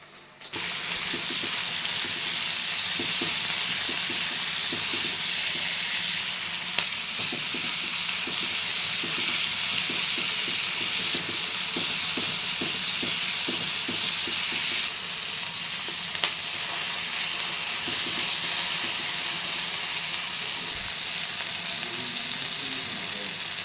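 Tomatoes sautéed in a pan for paneer masala give a loud, continuous close sizzle with a faint rhythmic stirring patter, no voices.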